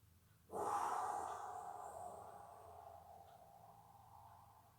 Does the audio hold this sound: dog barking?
no